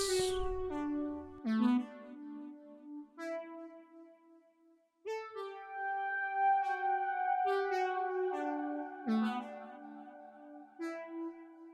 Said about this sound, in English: another thing in Citrus, a Moog synth